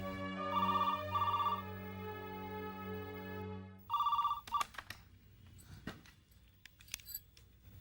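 Telephone ringing indoors in a Hindi TV drama, two clear bursts of rings followed by another ring cut short, then a handset clatter and quiet rustling.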